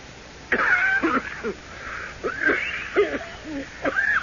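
A harsh, raspy coughing fit with wheezing, strained breaths between bursts, repeated several times at close range.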